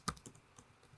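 Someone types briefly on a computer keyboard, giving a few quiet, close key clicks in quick succession with one sharper first tap.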